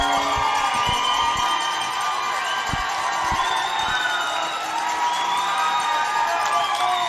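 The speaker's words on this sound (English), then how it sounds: "Crowd is going wild here, absolutely wild." A hockey crowd cheers wildly after a goal in a Sioux City Metros semifinal against Kansas City, a loud, sustained roar of shouts and whoops with scattered thuds and claps throughout.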